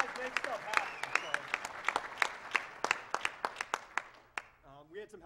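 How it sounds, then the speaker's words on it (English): Audience at a wireless reconnaissance talk gives scattered, uneven clapping, a few dozen sharp claps that thin out toward the end, with a speaker's voice running over it. "So can we all give a big round of applause for them"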